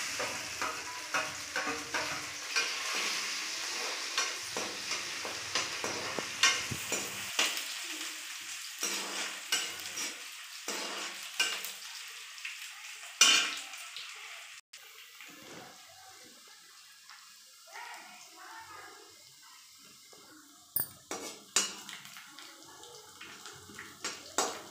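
Chopped green chilies and onions fry in a hot tempering for khichdi, making a crackling sizzle with frequent stirring scrapes and clinks that ease into a quieter hiss before a few sharp clatters near the end.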